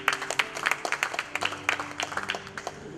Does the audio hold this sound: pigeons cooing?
no